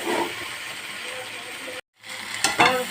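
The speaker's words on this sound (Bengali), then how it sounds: "এরপর আমি চিংড়ি মাছটা দিয়ে দেবো। দিয়ে আর একটু কষতে থাকবো এটাকে।" Prawns sizzle and get stirred in a pan for a Bengali prawn dish, a steady close frying hiss that cuts out briefly, then returns with sharper scraping stirs.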